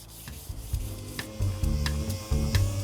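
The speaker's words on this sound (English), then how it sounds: "Flat block with a bit of medium sandpaper on it." Rhythmic rasping strokes of medium sandpaper on a flat block, sanding an Audi 100 Avant body panel back and forth at an even pace, close and fairly quiet.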